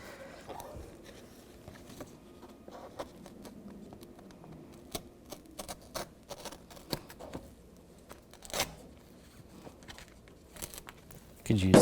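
Close, quiet snipping and crinkling of decal paper backing being cut on a 1999-2006 Chevrolet Silverado 1500, with scattered sharp clicks and rustles throughout.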